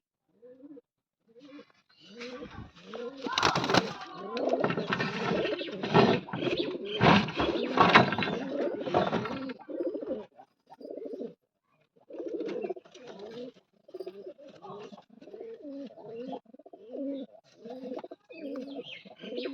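Pigeons coo repeatedly at close range, soft low throaty calls in a steady rhythm, with a burst of fluttering and rustling in the first half.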